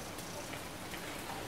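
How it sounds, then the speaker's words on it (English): Steady rain falling in the survival game Survival Fountain Of Youth on an island in the early morning, an even broadband hiss of drops, faint and unbroken, with no voices. "it's first thing in the morning, and it is raining"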